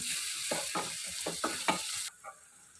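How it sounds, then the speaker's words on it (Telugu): Raw garlic paste is stirred into onions and chillies frying in a pan for a ridge gourd curry: a run of rhythmic spoon scrapes over a bright sizzle, which then cuts out, leaving a last faint scrape. "కచ్చా పచ్చగా దంచుకున్న వెల్లుల్లి పేస్ట్ వేస్తున్నానండి ఇది కూడా ఒకసారి కలుపుదాం"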